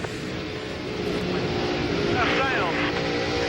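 NASCAR Winston Cup stock cars roar past at racing speed at Darlington Raceway, a loud, steady engine drone with a brief higher whine rising over it midway.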